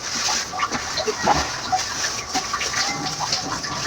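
A pig grunts and snorts in irregular short bursts close by, with faint splashing water in the background.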